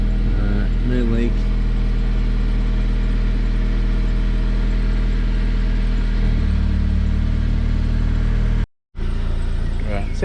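MK5 VW Golf petrol engine idling after fuel pressure regulator work, a steady low mid-pitched hum running throughout, briefly cut out near the end, with a voice speaking over the start.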